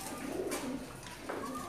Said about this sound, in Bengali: আপনারা দেখছেন পাবনা জেলার ইশ্বরদি থানার দাশুরিয়া এলাকায় অবস্থিত জাকির হোসেনের কবুতর খামার।